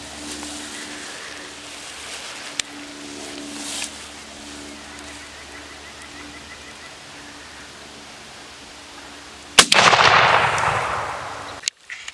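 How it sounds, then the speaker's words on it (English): A shotgun being patterned for turkey hunting fires one loud outdoor blast late on, with a rolling tail that fades, after a long stretch of quiet outdoor ambience and a brief click earlier. "So I'm just going to shoot it now just to show everyone"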